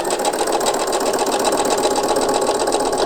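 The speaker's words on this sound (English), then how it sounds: "Lower your presser foot and simply stitch along that line again." A sewing machine stitches a Courthouse Steps quilt block with the presser foot lowered, giving a loud, steady, rapid whirring hum close up for a few seconds, with no talking.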